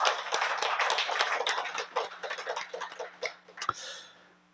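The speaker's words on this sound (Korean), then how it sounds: "다시 한번 열렬하게 한 박수를 한번 보내드립니다" A church congregation at a Sunday morning service claps in a full burst that thins into scattered individual claps and fades out. A low electrical hum runs underneath.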